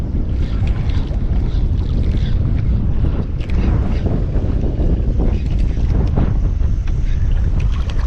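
Strong wind roars over a boat out fishing, a loud, continuous low rumble of gusts buffeting the microphone with water noise mixed in and no letup.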